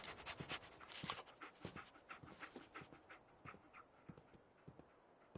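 Dogmeat, the dog in Fallout 4, pants close and quietly in quick, rhythmic breaths, with a few sharper huffs mixed in and no talk.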